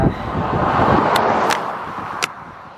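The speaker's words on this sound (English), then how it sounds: "Car coming, so it may be a little difficult to hear." A car passes on a road while someone is walking, a broad rising and fading whoosh mixed with wind noise on the microphone, with a few brief clicks.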